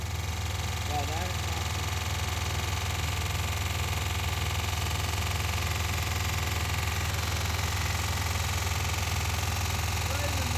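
A 1990 Dodge Grand Caravan engine idles with its cooling fan running, giving a steady low hum and whir as people talk nearby.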